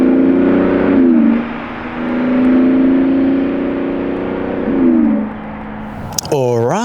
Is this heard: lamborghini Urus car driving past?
yes